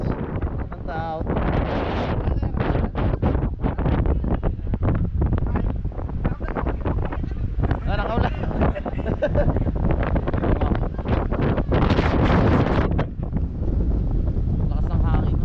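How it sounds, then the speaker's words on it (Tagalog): Strong wind buffets the microphone in a constant loud roaring rumble, with people talking over it throughout. "Lakas ng hangin no?"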